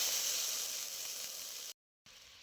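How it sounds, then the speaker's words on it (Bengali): Water poured into a hot kadai for boiling jaggery sizzles in a loud, hissing burst that gradually softens, cuts out briefly, then resumes faintly, with no talk. "তার জন্য অল্প জল দিয়ে দিচ্ছি কড়াইয়ের মধ্যে।"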